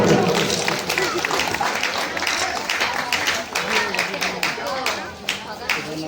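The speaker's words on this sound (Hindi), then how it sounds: "जोरदार तालियां दोस्तों" Audience applause at a Mr and Miss pageant winner announcement in Campbell Bay, brisk clapping from a nearby crowd that carries on under an announcer's voice throughout.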